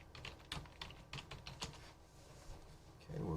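Typing on a computer keyboard while setting up an Ubuntu LTSP diskless terminal server: a quick, uneven run of soft, close key clicks with brief pauses, fairly quiet and with no talk over it.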